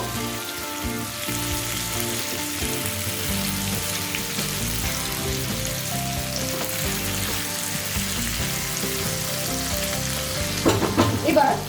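Chicken drumsticks for angara tangri kebab are stirred with spices in a hot frying pan, giving a steady sizzle with scraping stirs throughout. A soft musical backing plays underneath, and a few louder stirring clatters come near the end.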